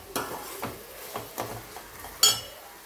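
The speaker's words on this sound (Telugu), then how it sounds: "బాగా కలిపి" Several spaced scrapes and clinks of a spoon stirring fish curry with tomatoes in a metal pan, close and fairly quiet, with a faint simmer between strokes and a sharper knock near the end.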